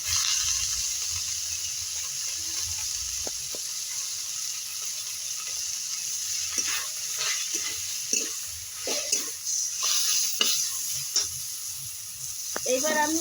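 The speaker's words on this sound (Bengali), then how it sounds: "নুনটা দিয়ে একটু ভালো করে ভেজে নেবো মেথি শাকটা।" Fenugreek leaves fry in a pan with ginger paste and green chili paste, giving a steady soft sizzle broken by scattered clicks and scrapes of stirring.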